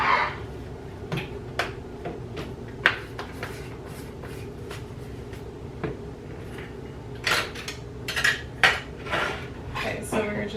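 Ingredients for keto mozzarella cheese sticks, seasoned with Italian seasoning, being mixed in a bowl: repeated clinks and scrapes of a utensil against the dish, irregular and close, with quiet stretches between the sharper taps.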